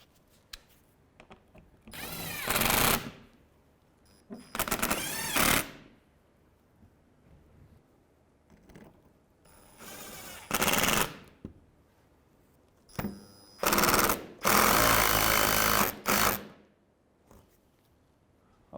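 Power tool driving a 10 mm bolt into a 2015-2019 Hyundai Sonata bumper during grille replacement, several short whirring bursts separated by quiet pauses, close up with no talking.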